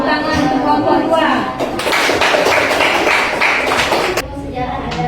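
Applause from a classroom for a student group, a dense burst of clapping rising over lingering talk and room noise, then tapering off.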